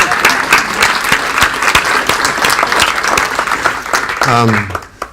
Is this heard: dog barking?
no